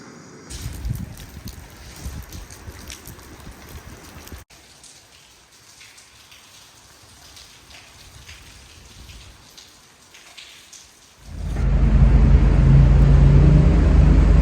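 Rain falls on a sunny day, heard from under a bridge as scattered drops at first, then a sudden loud, dense downpour that builds near the end.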